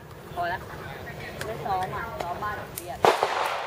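Firearms at shooting practice: one sharp, loud bang cracks out near the end, with people talking nearby throughout.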